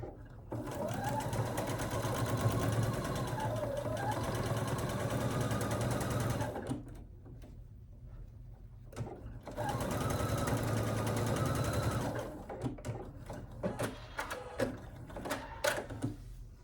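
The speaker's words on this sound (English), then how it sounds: "go ahead and sew this using a 1/4 inch" A sewing machine stitches a 1/4 inch seam on a fabric basket, humming steadily in two long runs with a pause between, then a few short clicks and taps at the end, with no talk.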